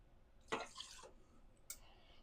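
Liquor pours briefly and faintly into a small measuring jigger, a half-second splash followed by a light clink.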